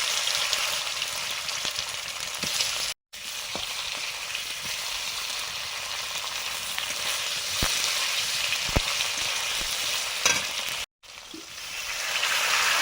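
Dry red chillies, panch phoron and bay leaves fry in hot oil, a loud, even sizzle that runs throughout and drops out briefly twice, with a few faint clicks and no talk.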